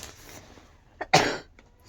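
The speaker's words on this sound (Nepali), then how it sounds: "मलाई खोकी लागिरहेको छ" A single sharp cough bursts out near the microphone after a brief faint throat sound, then quiet returns.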